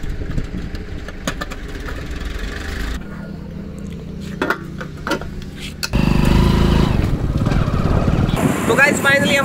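A motorcycle engine runs steadily nearby, a continuous mid-pitched drone that shifts character partway through and grows louder toward the end, with wind-like noise around it.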